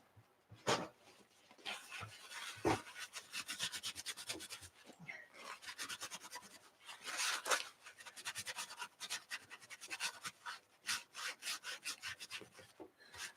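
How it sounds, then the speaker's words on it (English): Sandpaper scrubs by hand across a surface in an art journaling session, producing close, rasping back-and-forth strokes in uneven bursts with brief pauses between them, without speech. "I'm going to have to put more sandpaper on this anyway."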